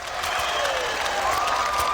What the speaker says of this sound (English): Look at that crowd. That's the Luminosity cheering section right there.